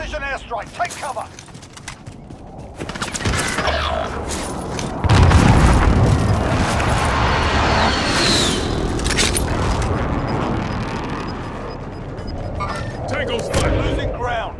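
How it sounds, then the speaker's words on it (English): Precision airstrike explosions in the Modern Warfare Warzone video game: heavy booms swelling into a loud, sustained rumble of blasts mid-clip, with gunfire and in-game radio voices around them. "Enemy precision airstrike. Take cover."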